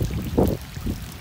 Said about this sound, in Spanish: no pases porque haces olas, se lo metes a la gente